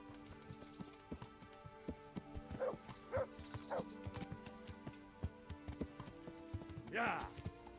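Steady clip-clop of horse hooves in the medieval game Kingdom Come: Deliverance, quiet and rhythmic beneath background music, with a dog barking briefly and a voice talking over it.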